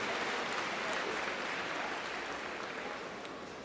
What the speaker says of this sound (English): Let's give a collective round of applause for special members of this university